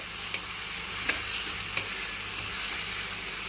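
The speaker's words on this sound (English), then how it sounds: "So we will just quickly mix it up and" Two ground medium tomatoes being stirred and fried in a kadhai for red sauce pasta: a steady, close sizzle with a few light scraping clicks from the stirring spoon, no voices.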